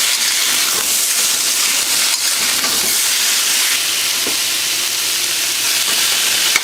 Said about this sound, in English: But I always like to give the meat a good sear.